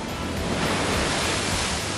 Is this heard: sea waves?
yes